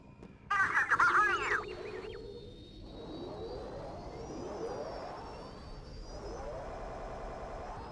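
Starfighter engines spin up for takeoff in the Star Wars Battlefront II video game, a sudden loud electronic burst followed by a steady whining, wavering drone that swells and holds.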